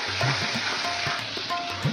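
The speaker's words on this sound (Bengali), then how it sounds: "আমি মশলা দিয়ে দিচ্ছি পেঁয়াজগুলি আমার হালকা ভাজা হয়ে গেছে" Onions sizzle in a pan as spices go in, a steady close frying hiss broken by short scraping stirs of a spoon.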